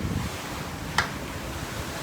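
Steady wind rushes across the microphone on a cruise ship balcony at sea, with a broad hiss and a dull ocean rumble beneath, with one brief tap in the middle.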